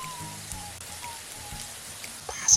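Steady crackling and sizzling of pink sausage slices frying in hot oil, a dense patter like rain, with a brief louder pop near the end.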